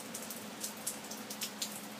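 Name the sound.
rain falling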